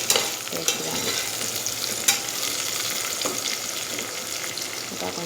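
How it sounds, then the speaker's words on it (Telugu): Mint paste frying in a pan, a steady close sizzle broken by a few sharp clinks and scrapes of a spoon stirring. "ఇంకా కొంచెం ఫ్రై అవ్వాలి."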